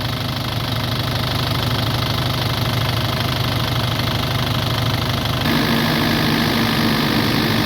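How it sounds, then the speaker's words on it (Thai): An Isuzu D-Max pickup engine with about 279,000 km idles steadily, a continuous close low rumble with fine knocking texture and a slight shift in tone near the end, with no talk. "ตอนนี้เดินเบานะเดินเบา"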